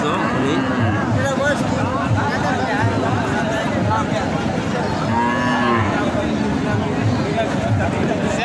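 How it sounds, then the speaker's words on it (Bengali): Friesian cows moo at the Chhatra cattle market in Naogaon, their drawn-out calls rising over a constant babble of crowd noise and talking people. "চ্যানেলে দেখাচ্ছি আপনাদের গরুগুলো।"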